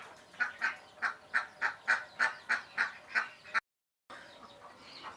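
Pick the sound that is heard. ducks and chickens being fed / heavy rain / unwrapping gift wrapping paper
ducks and chickens being fed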